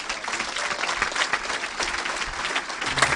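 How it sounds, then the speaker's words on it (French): A church congregation claps steadily together in sustained applause after a healing is announced, a dense, even wash of many hands filling the room for several seconds without talk. "On acclame le Seigneur pour cette guérison."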